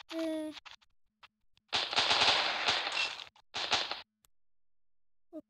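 Automatic weapon fire in a video game comes in rapid, loud bursts: a long continuous stream followed by a shorter one, with brief tonal game sounds and quiet gaps between them.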